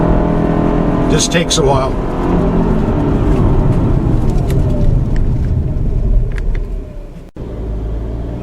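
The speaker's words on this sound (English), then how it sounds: "in accelerating from a stop, this CVT automatic bogs a bit off the line." A 2014 Subaru Outback 2.5i with a CVT automatic pulls away from a stop and bogs a bit off the line. Its engine drones loudly and steadily inside the cabin while a voice speaks briefly.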